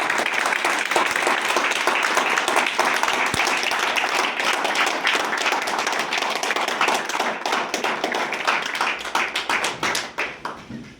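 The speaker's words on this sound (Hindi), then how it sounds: "अपने सीएमडी ऋषि द्विवेदी सर के लिए जबरदस्त तालियां" An audience at a weekly property company meeting gives a loud burst of clapping for the company's CMD, dense and sustained, thinning into scattered claps near the end.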